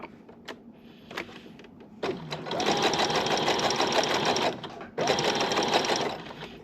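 A sewing machine stitches a collar onto a Korean hanbok, two sustained runs of fast, even mechanical whirring separated by a pause, close and loud, with a few small clicks of fabric handling before the stitching starts.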